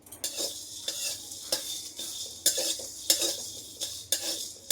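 Spices dry-roasted in a pan without oil and stirred with a utensil, producing repeated scraping and clinking strokes at an irregular rhythm over a faint background crackle.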